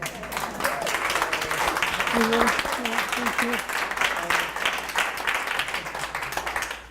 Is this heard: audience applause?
yes